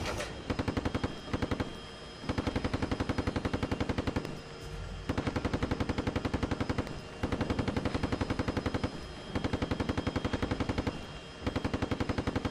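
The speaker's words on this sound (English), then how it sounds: "Is it you, Gunner, using machine gun?" A tank's machine gun firing in the Steel Beasts Pro simulation: long, loud, rapid automatic bursts, six or so in a row, each separated by short pauses.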